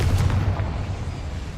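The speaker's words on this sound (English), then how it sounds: "Confringo!" Confringo fire spell in Hogwarts Legacy going off as a single deep booming explosion, loud and close, with a low rumble that slowly fades.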